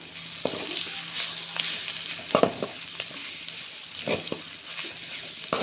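Ingredients for egg noodles, including chillies and spice powder, fry in a pan under a continuous sizzle, broken by a few distinct scrapes and knocks of the stirring spoon.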